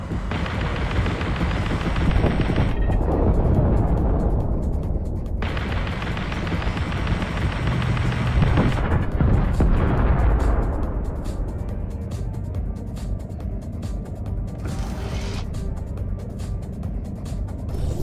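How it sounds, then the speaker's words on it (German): Gauss cannon shots in the underwater game Aquanox Deep Descent: heavy, booming blasts with long rumbling tails roll out over a dense engine drone, loud and close, without talk. "Schuss aus der Gausskanone."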